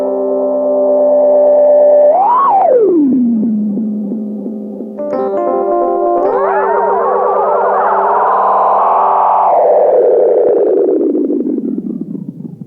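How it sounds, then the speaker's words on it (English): A Yamaha Reface CP keyboard through its analog delay effect at increased depth, sustained tones sweeping up and down in pitch with siren-like bends and smeared repeating echoes, loud and alone for the whole stretch. "since these are authentic physical models of what went on with an analog delay, you could increase the depth and take this into outer space"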